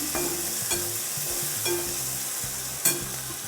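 Green chillies and garlic sauté in a pan for a pumpkin dish, giving a continuous sizzle broken by a few sharp clinks and scrapes of a spoon stirring.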